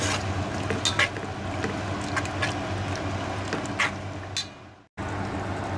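A utensil stirring coriander powder into chicken methi pulao in a pan, giving steady scraping and sizzling with occasional sharper scrapes and a short break near the end.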